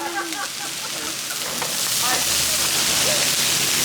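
Red onion sizzles on a hot Blackstone griddle, a steady hissing crackle that grows louder as more onion goes in, with people talking over it.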